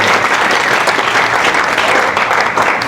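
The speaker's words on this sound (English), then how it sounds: "let's hear it for Amanda Serrano, Katie Taylor, and all the other amazing athletes on this card" A large boxing event crowd applauds loudly and continuously, with dense clapping and no voices standing out.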